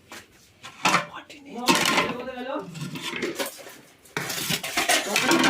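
Chili chicken being served into a bowl, with clattering cutlery and dishes close by, a scatter of clinks and knocks as a voice talks over them.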